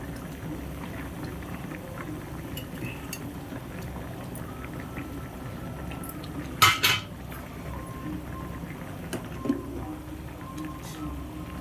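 Mango pieces dropped into a half-cooked tamarind curry with potato and drumstick, with light utensil clinks and a couple of sharper metallic knocks over a soft bubbling simmer, close up.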